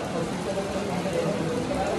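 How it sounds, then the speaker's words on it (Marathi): Steady, dense rainfall patters without a break, an even wash of hiss across the clip with faint murmuring underneath. "पाऊस चालू झाला आहे, थंड ओला पाऊस आहे डायरेक्ट"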